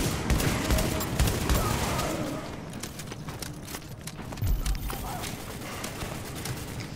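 A video game battle with dense, continuous rapid gunfire crackling close and loud, bursts layered over one another, with a deeper thump partway through and busy combat noise throughout.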